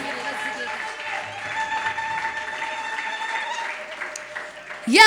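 A church congregation ululates and claps in praise, with sustained high trilling voices over steady applause at moderate distance, continuing throughout and swelling near the end.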